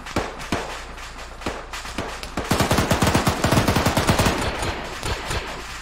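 Rapid bursts of video game gunfire crackle in quick, loud volleys, building into dense automatic fire through the middle and tapering to scattered shots near the end.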